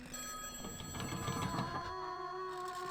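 A telephone rings inside a mansion in Eyes: The Horror Game, a steady electronic bell tone repeating through the clip at a fairly low level, with no talking over it.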